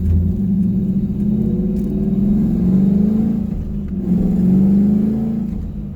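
A car with an MGW short-throw shifter accelerates hard nearby, its engine note climbing, then dipping briefly at each quick gear change before rising again. The loud, steady drone runs throughout with no talking.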